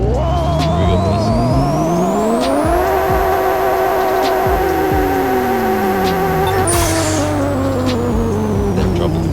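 Pixel Car Racer game car at a drag start, engine revving loudly with rising pitch as the clutch drops and it launches, gears shifting with a brief tire squeal, steady and close throughout.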